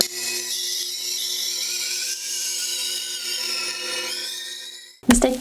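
A small kitchen knife is sharpened on a coarse grit stone, giving a continuous close, loud scraping hiss that ends abruptly with a brief knock.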